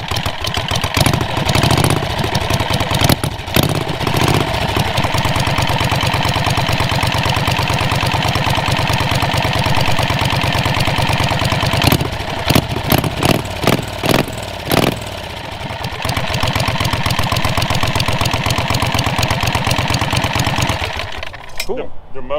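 A small pull-start outboard motor with choke and throttle set and its cowling removed idles steadily and loudly close by, with a few rough surges near the middle before cutting off at the end; people talk over it.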